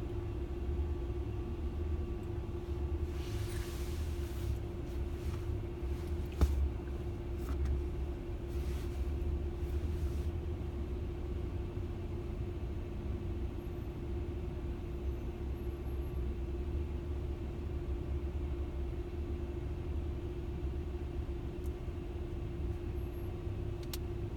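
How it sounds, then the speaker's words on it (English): Steady low road traffic rumble as cars pass during afternoon driving, a constant near drone with little variation and a brief knock midway, no talk. "traffic starts picking up"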